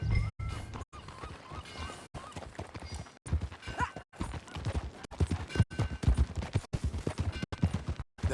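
Horse hooves clip-clop at a riding pace in the Western open-world game Red Dead Redemption 2, rhythmic hoofbeats under faint ambient music and scattered game sounds, no voices.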